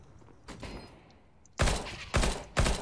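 Gunfire in the CS:GO Danger Zone video game: one faint shot, then three loud, sharp gunshots spaced about half a second apart, with no talking.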